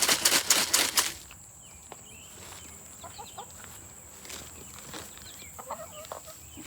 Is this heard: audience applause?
no